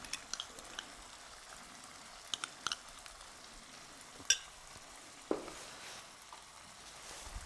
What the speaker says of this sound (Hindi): अब हम वापस से इसको भूनेंगे जब तक कि हमारा मसाला अच्छे से भुन नहीं जाता है